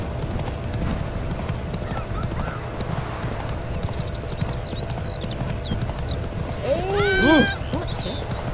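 Roach, the horse in The Witcher 3 video game, gallops with steady hoof clip-clops under ambient game sound, followed by a loud neigh near the end.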